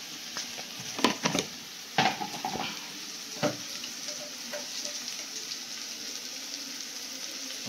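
Vegetables seasoned with turmeric and salt fry in a pan under a steady sizzle, with scraping stirring strokes clustered early on and a few lighter clinks later.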